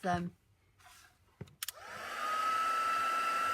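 A hair dryer blows steadily on wet papercraft, starting after a few short knocks and running loud and continuous with a high whine to the end.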